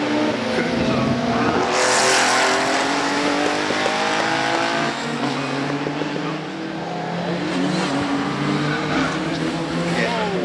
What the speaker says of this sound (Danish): så er der altså Jackie Olivers BMW